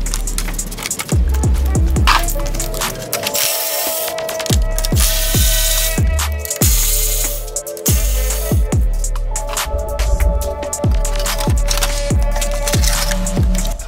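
A ratchet wrench loosens 10 mm bolts on the radiator of a boosted J35 Acura TL Type S, giving loud, close, rapid clicking runs broken by short pauses, with no talk.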